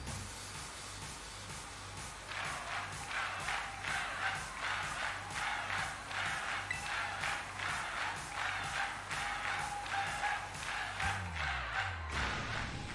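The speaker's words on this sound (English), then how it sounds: "This crowd's so loud it could wake the dead." A video game crowd at the Montenevera Gym in Pokémon Scarlet cheers and stomps in a steady rhythmic beat, loud and continuous, with a sweeping electronic whoosh near the end.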